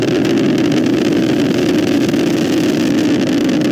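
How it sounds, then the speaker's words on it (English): An Atlas V 551 rocket's RD-180 engines in flight during a launch: a dense, unbroken roar, loud and steady throughout, with no voices over it. "And we're throttling up on the RD-180s."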